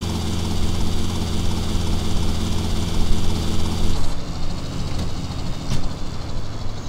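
Helicopter rotor in GTA Vice City, a loud, continuous beating chop over a dense engine roar that thins out partway through, with a few sharp transients later on.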